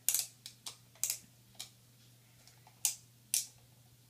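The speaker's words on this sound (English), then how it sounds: "it clicks like a car's blinker" A toy or device gives off sharp, crisp clicks like a car's turn-signal blinker, about ten of them in an uneven rhythm with gaps between, close and clear with no talking.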